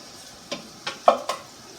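Tomato sauce stirred in a pan with four soft, evenly spaced scraping strokes, close and fairly quiet over a faint background hiss.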